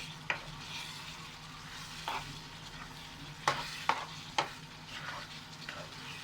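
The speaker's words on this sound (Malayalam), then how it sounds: "ഞാനൊരു 2 മിനിറ്റും കൂടി ഇതുപോലെ ഒന്ന് ഇളക്കിക്കൊണ്ടിരിക്കുകയാണ്" Restaurant-style Indo-Chinese chilli chicken stirred in a frying pan, a low continuous sizzle broken by several sharp spatula scrapes and taps at irregular intervals, close up with no talking.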